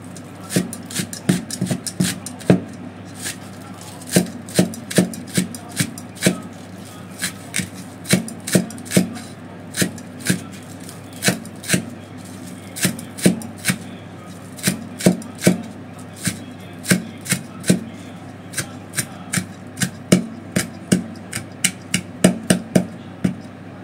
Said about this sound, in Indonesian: daun bawangnya saya gunakan 5 batang ya. Kita iris seperti ini.